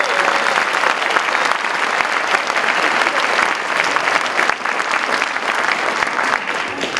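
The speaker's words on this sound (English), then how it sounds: "Let's give them a round of applause for being here." Steady applause from an audience at an elementary school orchestra concert, dense and sustained clapping filling the room for about seven seconds with a faint murmur of crowd underneath.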